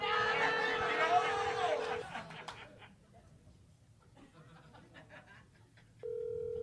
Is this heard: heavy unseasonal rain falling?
no